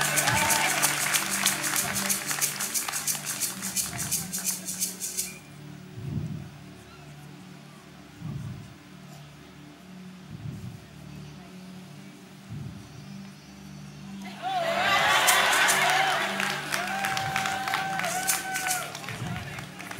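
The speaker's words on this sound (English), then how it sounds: "That's a good time to clap." Bursts of audience clapping at the start and end, with someone talking through the quieter middle stretch.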